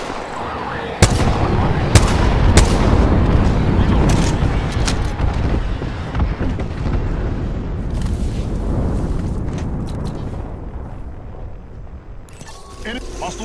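Gunshots crack in a video game battle, a few sharp reports followed by heavy rumbling blasts that fade, with voices talking through the action.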